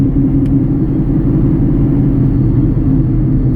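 A car cruising at 55 mph with a failing wheel bearing and a damaged axle end produces a loud, continuous low drone and rumble, heard steadily from inside the cabin without speech.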